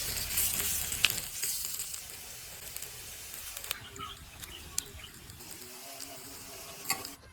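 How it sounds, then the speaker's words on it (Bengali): Egg and onion chops frying in oil give a steady, soft sizzle with scattered pops and crackles across the clip, while someone speaks over the cooking. "চপগুলো এবার উল্টিয়ে দিচ্ছি আজকে জালে মশমতো করে ভেজে নিতে হবে"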